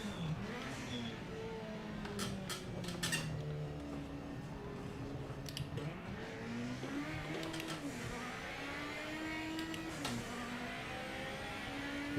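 A turbocharged race car in the Project Motor Racing video game revs and shifts continuously, its engine tone rising and falling steadily throughout, with a few sharp clicks and faint talk underneath.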